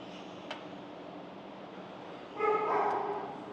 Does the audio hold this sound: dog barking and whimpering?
yes